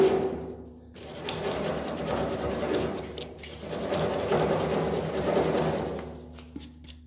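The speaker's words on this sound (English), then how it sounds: "take your sandpaper and you wanna sand this really quick just to kind of clean it up and then run it around the edge" Sandpaper rubs back and forth over the cut edge of a homemade ice fishing jaw jacker in two long, steady rasping passes, close and fairly loud with no talking.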